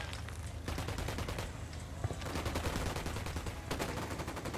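Dense, loud bursts of automatic gunfire from Ghost Recon Wildlands, rapid rattling volleys that keep up continuously with hardly a break, close and overwhelming.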